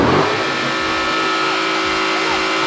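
A Dodge Scat Pack car engine revving hard, loud and close, holding a steady high roar for the whole stretch.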